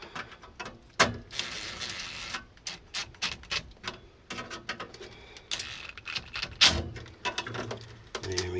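Mechanical ticks, clicks and metallic scraping from tightening the igniter inside a Trane heat pump furnace, close by, in irregular bursts with brief pauses, no talking.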